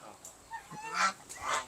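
A few short honking calls of Vigova broiler ducks, nasal and close, spaced irregularly over a brief moment.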